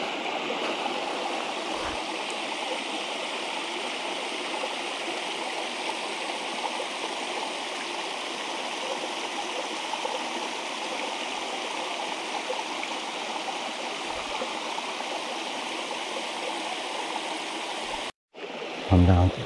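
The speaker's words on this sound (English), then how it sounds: "Look at this cool ass waterfall." A waterfall at a metro park mountain bike trail pours in a steady, full rush of falling water that holds constant throughout, ending with a brief pause and a couple of close handling knocks.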